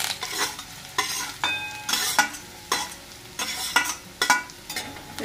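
Brinjal masala being stirred in a pan over low gas: repeated scraping strokes of a spoon against the pan, roughly one every second, over a soft background sizzle, close and with no talk.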